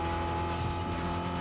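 A car driving in Fortnite, its steady engine drone with a low, continuous tonal hum running evenly under the whole short moment, fairly loud and close.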